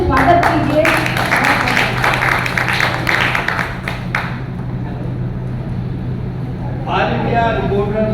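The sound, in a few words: audience applause welcoming people at a journalists' event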